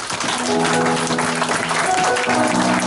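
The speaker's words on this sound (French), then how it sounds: "Donnons une acclamation, Seigneur." Applause from wedding guests fills a church-style celebration, with steady clapping throughout and tonal music or voices carrying underneath.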